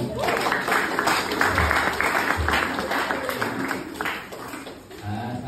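Audience applause at a church thank-you gathering, a sustained wash of clapping from a crowd, moderately loud and steady before tapering near the end.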